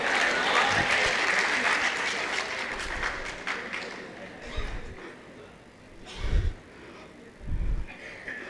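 Audience applause after a poem recitation at a gathering, steady clapping that fades, with occasional thumps and voices under it.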